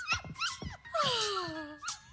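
Several puppies give quick, high yips and whimpers in a short, quiet burst. Some of the cries slide down in pitch.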